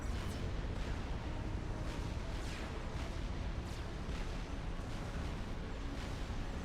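Fat Boy artillery shelling in Supreme Commander: Forged Alliance, a faint run of distant booms repeating about once a second under a steady noisy wash, with no talk.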